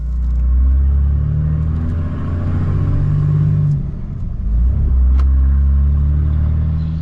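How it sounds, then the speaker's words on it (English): A diesel shop truck, a C10, starts up early in the morning and settles into a loud, deep idle rumble, with a brief dip partway through before the heavy engine drone returns. "about to start up this diesel noise box and wake up the neighborhood"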